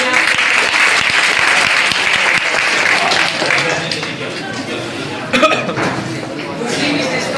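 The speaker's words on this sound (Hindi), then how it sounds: "इनके लिए एक बार जोरदार तालियां।" Loud, sustained applause from an audience at a college degree-award ceremony, steady clapping for several seconds that thins slightly toward the end, with crowd chatter mixed in.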